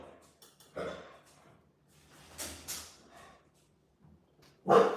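A dog named Callie lets out several sharp barks and yips at irregular intervals, fairly close, with quiet gaps between them and a loud final bark.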